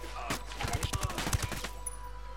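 An assault rifle in the video game Ghost Recon Wildlands fires a rapid burst of about a dozen crisp shots at a fairly distant, moderate level, then cuts off into quiet hum.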